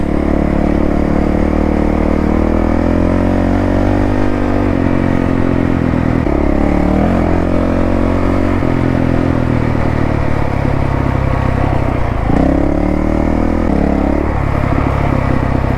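A Honda CRF450L motorcycle pulls loudly in third gear on an off-road outing, its engine droning up and down with repeated throttle surges close by for the whole stretch.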